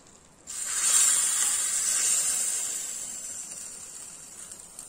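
A sudden loud sizzle as hot tempering is poured into dal, hissing strongly at first and then slowly fading; nobody speaks.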